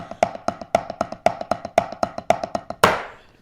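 A drum double stroke roll deliberately played badly, in uneven pairs of sharp snare taps with the second stroke of each pair weaker, ending on one louder crash-like hit that rings out.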